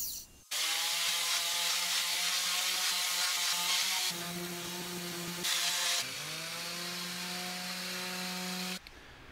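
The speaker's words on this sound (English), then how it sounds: "I'm going to use my circular saw track." A circular saw running on a track cuts through a 2x4, a loud sustained whine that dips in pitch as the blade bites into the wood, then spins down at the end.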